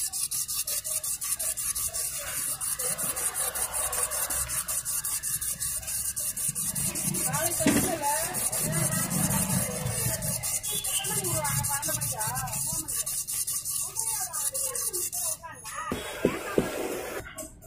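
A Honda Activa rear brake shoe is rubbed down against an abrasive surface in a continuous close scraping rasp that runs almost the entire time, then tapers off, with someone speaking at points.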